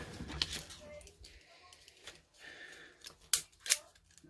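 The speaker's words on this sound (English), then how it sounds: "I'll just use my scissors on that one" Scissors cutting a paper stamp for a botanical-themed journal page, giving a few sharp close snips and crisp paper rustles with quiet gaps between them, faint background noise throughout.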